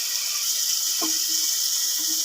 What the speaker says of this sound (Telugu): మగ్గిన తర్వాత చింతపండు పులుసు వేసుకున్నాం